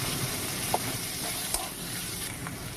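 Green chillies and chopped tomato stir-fry in a pan with a steady sizzle, broken by a few sharp scrapes and stirs of the spoon, close and moderately loud.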